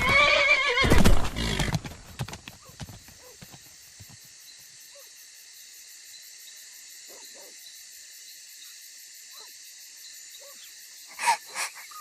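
Horses in the strategy game Rise of Kingdoms give a loud neigh near the start, followed by galloping hoofbeats that fade into faint, scattered clops and a brief snort or whinny near the end.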